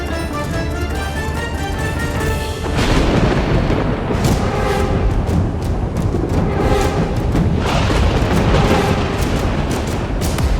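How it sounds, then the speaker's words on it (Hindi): A fierce windstorm with torrential rain rumbles loud and continuous, with a dense roar of wind and rain and heavy low booms that swell partway through, like thunder rolling close. "ये भीषण आंधी, ये मूसलाधार वर्षा"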